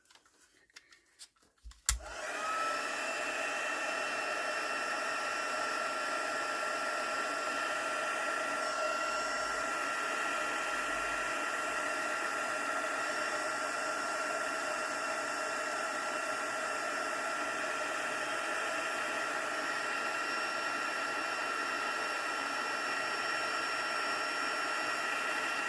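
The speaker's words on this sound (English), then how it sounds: "let's heat set this one" A heat embossing tool sets stamped autumn leaves in a journal, switching on after a short click and then blowing a steady, even whirring hum that continues unbroken, close and alone.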